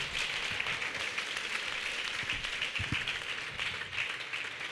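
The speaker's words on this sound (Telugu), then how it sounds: "చప్పట్లు కొట్టండి గట్టిగా." A church congregation at a sermon claps loudly together, a dense and sustained patter of many hands that swells and dips slightly throughout.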